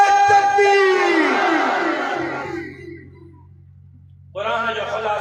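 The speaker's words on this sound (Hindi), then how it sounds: "जमीयत उलमा इस्लाम, जमीयत उलमा इस्लाम, हजरत अल्लामा राशिद महमूद सूमरो, नारे तकबीर।" A crowd at a political religious rally in Sanghar shouts slogans in loud unison. The chant fades into a short lull, then the massed voices surge back in.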